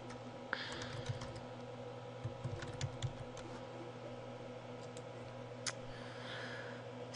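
Someone types on a computer keyboard: quiet, irregular clicks and taps, close by, over a low steady hum, with no voices.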